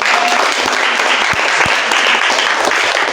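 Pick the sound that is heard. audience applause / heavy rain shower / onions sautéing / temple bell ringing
audience applause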